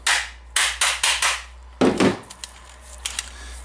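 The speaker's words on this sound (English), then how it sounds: "it's just stuck, so I will try to hammer it." Several sharp metallic hammer strikes in quick succession on a stuck screw-on chuck of a DeWalt drill, then one heavier blow followed by lighter taps, close and loud.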